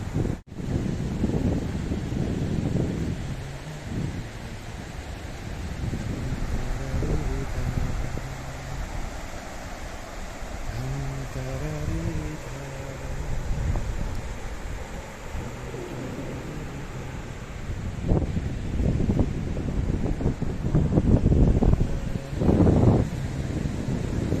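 Wind and flowing water outdoors on an evening in the open, a steady broad rushing hiss with gusting wind buffeting the microphone, rising toward the end, and no voices.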